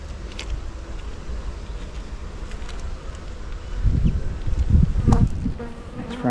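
Honey bees buzz steadily around an open split-box hive during an inspection, a dense close drone that swells louder partway through, with light rustling and no talk.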